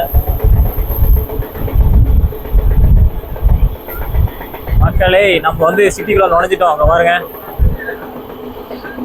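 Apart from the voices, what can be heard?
train running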